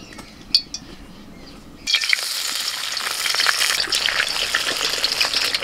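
White cooking oil poured into a wok, quiet clinks at first, then a loud steady frying hiss that swells and keeps crackling close by.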